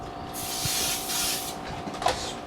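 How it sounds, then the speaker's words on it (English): Baker's Joy baking spray hisses into a pie pan for mini apple pies: one long, steady aerosol burst, then a shorter second spray, close to the microphone. "Spray it around the inside of my pan."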